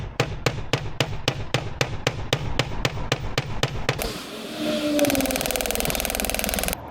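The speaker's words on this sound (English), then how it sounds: "So all I need to do now for the ladies' ring is just kind of hammer the end and make that taper." A hammer taps a gold ring to taper its end, striking in a fast, even series of sharp metallic hits before a whirring, buzzing noise takes over.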